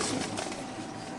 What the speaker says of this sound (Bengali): আচ্ছা দর্শক আমরা গিরিবাজ কবুতরগুলো উড়াই এই দিচ্ছি যে আপনাদের।